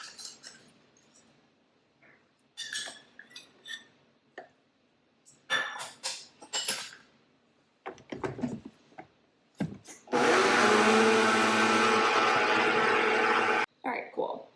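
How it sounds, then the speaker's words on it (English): A Vitamix high-speed blender runs loud and steady for about three seconds near the end, after scattered clinks and knocks of preparation, with no talk over the motor. "if you don't have a high speed blender like this, which, you know, Vitamixes are not cheap"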